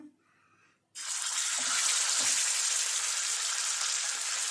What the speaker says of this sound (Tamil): வீட்டில் ப்ரிப்பேர் பண்ண மசால் வச்சு மேரினேட் பண்ண மீனை தான் இப்போ நம்ம போட்டு எடுக்க போகிறோம்